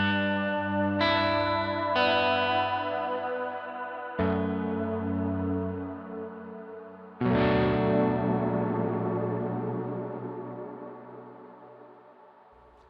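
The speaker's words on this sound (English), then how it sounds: "here's a reverb mix with the dry signal still in it." Electric guitar notes and chords run through reverb with the dry signal blended in, each struck chord ringing out with a washy tail that decays slowly, played alone with no talking.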